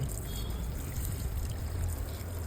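Plants are watered in a garden, a steady close trickle and splash of water running without pause for a couple of seconds and nobody speaking.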